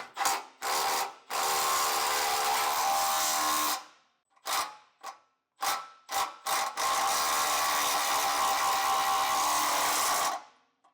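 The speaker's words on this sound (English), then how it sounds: "Now with a 3/4 wrench and socket, we'll tighten down our back bolts." Socket on a 3/4 wrench tightening the rear bolts of a Blue Ox base plate on a 2024 Chevrolet Colorado: several short bursts, then two long steady runs of close mechanical whirring with faint ratcheting, no talk.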